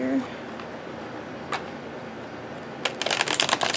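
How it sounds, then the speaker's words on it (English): Cardstock cards being riffle shuffled, a brief flurry of rapid crisp fluttering clicks near the end, with a few soft handling sounds and quiet room tone before it. "I don't know if I'm going to be able to riffle shuffle these."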